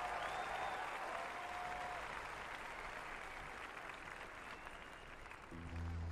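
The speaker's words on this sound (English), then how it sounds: "Riverbank Arena, give yourselves a huge round of applause" A large stadium crowd at Riverbank Arena applauds steadily during a Paralympic 7-a-side football match, a broad sustained wash of clapping that eases slightly toward the end.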